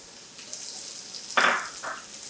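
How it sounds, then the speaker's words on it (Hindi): A cup of carrots goes into hot butter for an Afghani pulao and sets off a sudden sizzle, which surges, fades and then flares again briefly over a steady frying hiss. "इसी मक्खन में हम डालेंगे गाजरें 1 कप"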